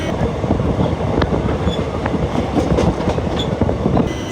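A long-distance passenger train on an Indian railway rumbles loudly along its rails, a constant heavy roar with rhythmic clacking and faint metallic squeals, heard from inside the train, without talk.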